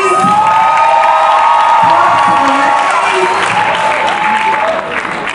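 Audience applause and cheering at the TSS Edge Series 2015 conference in Lagos, Nigeria: loud, continuous clapping mixed with whoops and shouts from a large crowd, sustained throughout and easing slightly at the end.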